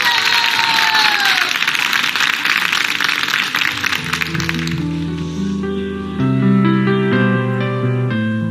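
Audience applause for the singer fills the hall loudly for about five seconds, then fades under piano and orchestral music as the song begins.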